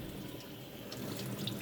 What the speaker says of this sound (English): Make sure that the water hits every area